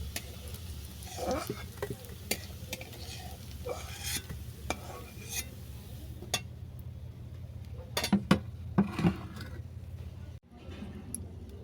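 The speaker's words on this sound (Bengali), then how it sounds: "এই তেলের মধ্যে মশলাটাকে কষিয়ে নেব" Ground spice paste sizzles in hot oil in a pan with dried red chilli and black cumin seeds, a spoon scraping and stirring in repeated clinks and scrapes over a low constant fry, with brief low background voices.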